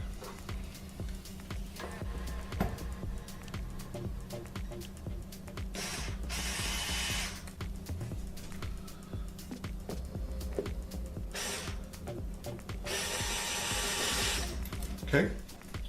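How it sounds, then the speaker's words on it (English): A handheld drill scores a small guide hole in a wooden picture frame for D-ring hanging hardware. The motor whirs in a few short bursts over a low background hum. "We're gonna make a little tiny score with our drill to act as a guide for the hardware."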